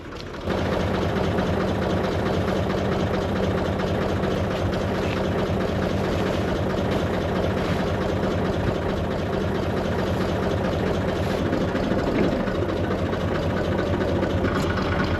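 A Massey Ferguson 135 tractor engine idles continuously with a steady, low diesel rumble close by and no other sounds.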